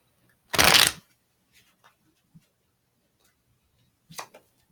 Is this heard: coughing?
no